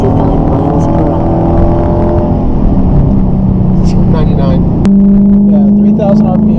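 A Dodge Charger R/T with a mid-muffler and resonator pulls away in first gear, its exhaust a steady deep drone heard from inside the cabin that rises and steps up in pitch partway through.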